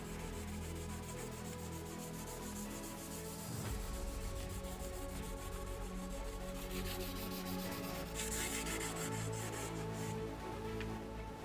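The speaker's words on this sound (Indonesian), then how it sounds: "amplas permukaan logam dengan menggunakan amplas halus" Steady, continuous abrasive rubbing of fine sandpaper worked back and forth over a metal surface, close and constant throughout.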